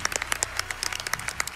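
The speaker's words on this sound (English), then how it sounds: "we clap for that." Audience at a live speedrun marathon event for Celeste clapping, a brief scattered round of individual claps with sharp, uneven rhythm, fairly close and not masked by talk.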